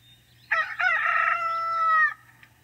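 A single rooster crows once, a loud, drawn-out cock-a-doodle-doo close by, over a low steady hum.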